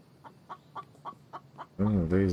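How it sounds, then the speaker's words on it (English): Chickens in the survival video game The Infected cluck in a steady run of short, evenly spaced calls, then a louder, nearer burst of clucking closes the clip. "There's a damn chicken."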